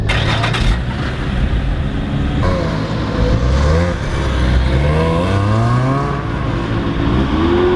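Lotus sports cars at Lime Rock Park race track in Connecticut, engines revving and accelerating nearby with rising and falling pitch sweeps, loud and continuous throughout, no talk over them.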